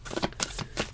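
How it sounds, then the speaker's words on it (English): Tarot cards are shuffled by hand in a quick burst of soft riffling snaps and slides, close and quiet, with no talking. "The last shuffle."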